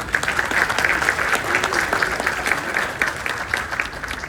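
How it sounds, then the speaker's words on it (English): A live stage audience in Dallas breaks into dense, sustained applause, many hands clapping together in a bright, even roar that holds for several seconds. "Clap."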